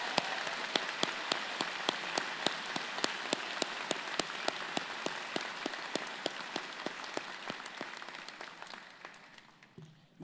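A large crowd at a university convocation ceremony applauds steadily for about ten seconds, dense clapping that stays even and slowly fades toward the end.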